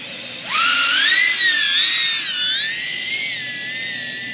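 A Flywoo Venom H20 FPV drone flies outdoors and spins up into a loud, high whining buzz whose pitch rises, wavers and glides as the throttle changes, close and continuous with no talking.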